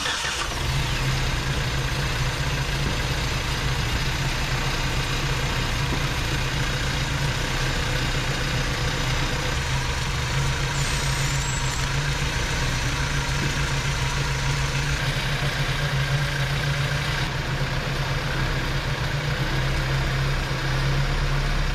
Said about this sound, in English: We're going to turn our idle up.